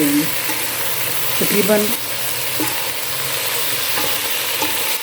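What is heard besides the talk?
tomatoes sautéing with okra in pan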